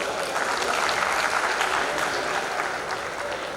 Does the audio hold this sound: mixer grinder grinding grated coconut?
no